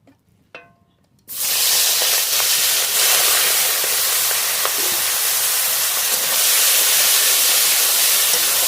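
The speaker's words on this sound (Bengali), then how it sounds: "মাছ খুব ভালো করে ভেজে নেব" Prawns drop into hot mustard oil in a wok and set off a sudden loud, dense hiss. Frying then roars on evenly for several seconds after a brief quiet clatter.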